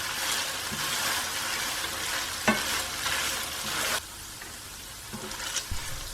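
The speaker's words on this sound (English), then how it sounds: "Mix that through." Pork and green beans with basil are stirred in a hot frying pan, with a steady sizzle and a few sharp scrapes and clatters of the utensil, heard up close without any speech.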